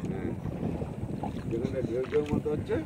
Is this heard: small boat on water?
yes